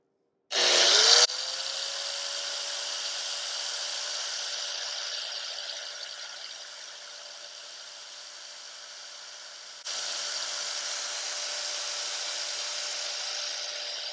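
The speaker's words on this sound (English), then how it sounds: "This is a grinder, a DeWalt grinder, corded grinder." A corded DeWalt angle grinder powered from an EBL 500 W portable power station spins up with a sharp startup burst, then settles into a steady high whine that dips in level briefly before returning at full strength.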